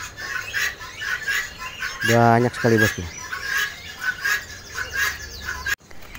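Many birds chatter and chirp at a bird market stall at Pasar Pramuka, dense overlapping calls near and busy, with a loud harmonic squawk or honk burst in the middle and someone speaking over it.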